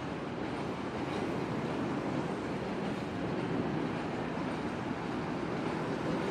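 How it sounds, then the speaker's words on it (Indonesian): The Malabar passenger train rolls into Bandung station with a broad, steady rumble and rush of wheels that stays loud and continuous throughout. "setelah kereta api Malabar ini masuk"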